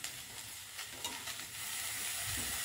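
Washed curry leaves dry roasting in a pan give a soft, steady crackling sizzle close by, with faint stirring scrapes and rising hiss toward the end.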